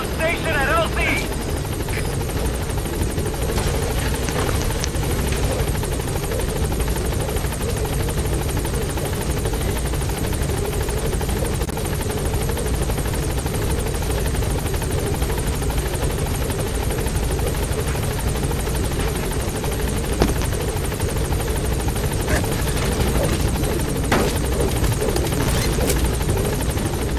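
Helicopter in the Metal Gear Solid 5 video game hovering at a landing zone and lifting off, a loud, steady rotor drone throughout with radio-style voice chatter over it.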